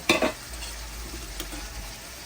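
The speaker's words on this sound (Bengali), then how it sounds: "তারপর হলুদ মরিচ মিক্স করব" A spoon stirs turmeric and chili into chicken curry in a pot over the heat, giving a couple of sharp scrapes at the start and then a soft sizzle with light stirring.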